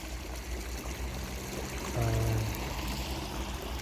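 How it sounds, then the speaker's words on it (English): Spring water from a source flows down into a garden pond, a continuous trickling, bubbling rush close by, with a brief low hum rising partway through. "Here the water from the source comes down."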